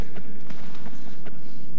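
Horse hooves clip-clop in the video game Shadow of the Colossus, a few soft, uneven steps over a low ambient background.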